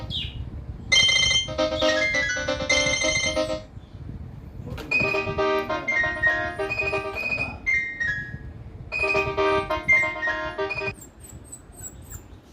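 A mobile phone plays a melodic electronic ringtone in three bursts of a few seconds each, separated by short gaps, fairly loud indoors and heard alone.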